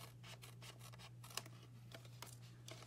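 Scissors snip quietly through a paper flap on a handmade 3D box in a series of close, soft, rhythmic cuts, ending in a sharper click.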